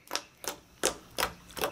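Sticky slime squeezed between fingers, giving five sharp snapping clicks spaced about every third of a second, close and crisp with no talking.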